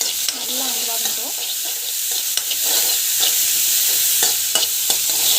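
Green chillies sizzling and frying in a pan while being stirred, a close steady crackle broken by scraping utensil strokes, with a faint voice briefly audible early on.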